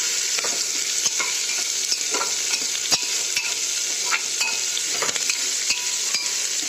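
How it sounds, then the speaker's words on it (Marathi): Tomatoes and curry leaves hitting fried onions in a hot pan for a spiced rice khichdi, giving a steady loud sizzle with occasional stirring clinks and scrapes, continuous and close with no voices. "कांदे चांगले भाजून घेतले त्याच्यानंतर मग त्याच्यामध्ये टोमॅटो कढीपाला हे टाकतो"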